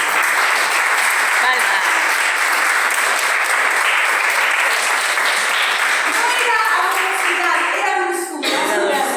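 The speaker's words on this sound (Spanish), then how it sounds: "Palmas." Audience applause fills a hall in dense, steady clapping, with a few voices calling out under it toward the end as it thins.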